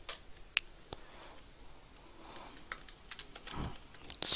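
Sparse, close computer keyboard keystrokes while a MySQL query is entered, scattered single clicks over a quiet background with a soft breath or rustle partway through.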